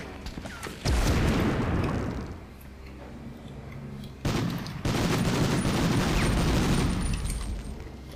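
Dense, continuous rattling gunfire in Medal of Honor fills the clip, with sudden louder bursts and heavy booming grenade blasts, close and relentless.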